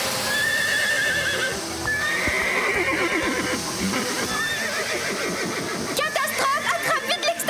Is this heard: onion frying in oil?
no